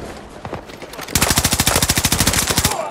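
Rapid automatic fire from the PBX-45 in Battlefield 2042 starts after a second of softer combat noise, then rattles on as a loud, evenly spaced burst of roughly twenty shots.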